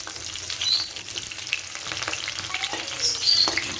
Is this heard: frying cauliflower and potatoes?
yes